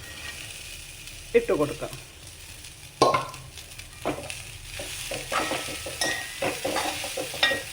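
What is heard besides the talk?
sautéing chopped beans in a pan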